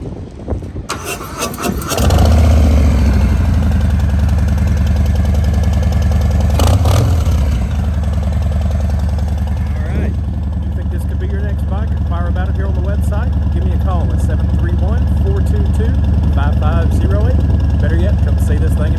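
A 2020 Harley-Davidson Heritage Softail 114 with Vance & Hines slip-on exhausts starts up and settles into a loud, loping, deep idle with a brief blip. A voice talks over the running engine in the later part.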